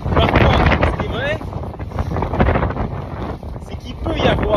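Wind gusts over a boat on an estuary, a loud, continuous rushing buffet that swells and eases in uneven waves, with a few brief chirps above it.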